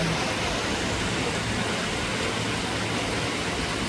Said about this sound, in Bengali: চারিদিকে বৃষ্টি আর বৃষ্টি